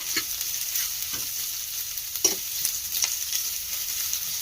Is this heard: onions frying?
yes